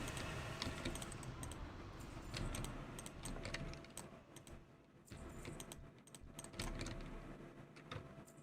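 Rapid clicky typing on a wireless computer keyboard, quick irregular keystrokes in bursts with brief pauses, close and fairly quiet with no talking.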